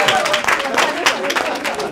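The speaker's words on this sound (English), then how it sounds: "Give her a big round of applause." Applause from the audience at a business talk, as a volunteer comes up on stage, with voices and crowd chatter mixed into the steady clapping.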